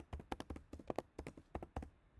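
Quick, uneven keystrokes on a computer keyboard while a username and email address are entered into a registration form, about a dozen crisp close taps in short bursts with no talk.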